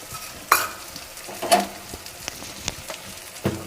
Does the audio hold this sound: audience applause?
no